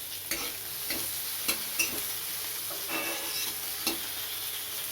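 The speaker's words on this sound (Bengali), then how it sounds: "এটা একটু ভেজে নেব।" Tempering spices frying in hot oil: black cumin, ginger, dried red chilli and tomato sizzling in a pan, a steady soft hiss broken by several sharp spatula scrapes and stirs, close and alone.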